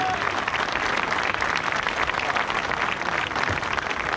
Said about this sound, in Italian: Grande applauso anche per la fanfara di Aprilia